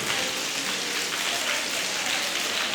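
A group of people claps hands in sequence to imitate rain, giving a dense, even patter that stays steady and fairly loud throughout.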